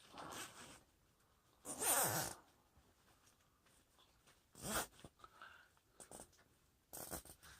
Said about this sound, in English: Hook your zip tie up.